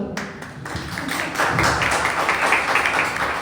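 Audience applause at a Spanish classroom debate on education, a dense wash of clapping that swells and stays steady and fairly close throughout.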